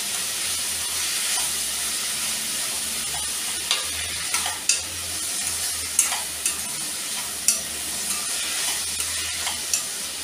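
Three large sliced onions fry in a little oil over a low flame, giving a steady close sizzle broken by regular scraping stirs and sharp spatula clicks against the pan.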